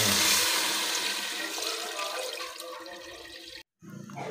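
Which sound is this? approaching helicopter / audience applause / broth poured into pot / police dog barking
broth poured into pot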